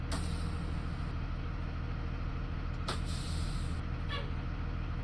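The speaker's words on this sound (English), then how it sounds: "We got new parking brake sounds too on these ones." A school bus idles steadily in the Rigs of Rods driving simulator while its parking brake lets out sharp hissing bursts of released air, one near the start, one midway and a fainter one toward the end.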